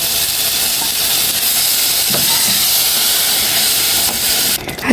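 Tomato paste and grated tomato juice hit a hot pan for a pasta dish, giving a loud, steady hiss of sizzling and steam that holds for several seconds before a brief shift at the end.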